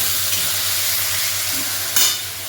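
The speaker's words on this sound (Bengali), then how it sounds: "গাজর, ক্যাপসিকাম, বিনস এগুলো হচ্ছে ভেজে নেওয়া হচ্ছে। এর মধ্যে তেল আর ঘিয়ের মধ্যে ভাজা হচ্ছে" Carrot, capsicum, beans and frozen peas fry in oil and ghee for pulao, giving a steady close sizzle with light stirring scrapes and one brief louder stir near the end.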